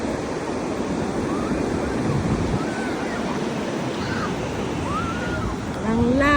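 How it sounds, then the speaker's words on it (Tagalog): Strong ocean waves crash and wash up on a beach in a steady, loud roar with wind buffeting the microphone, while faint voices chatter underneath. "Ang lakas ng alon guys."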